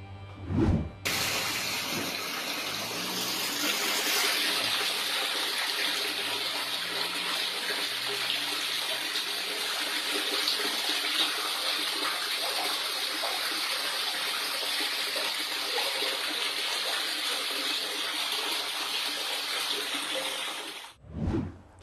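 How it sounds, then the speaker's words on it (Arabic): Murky, dirt-laden water pouring from a tap into a household storage tank in Basra, a steady loud hissing gush running continuously, with a brief bump at the start and end. "نعرض لحضراتكم الآن مقطعا يثبت أن المياه المحملة بالأتربة والأوساخ تصل خزانات منازل البصريين"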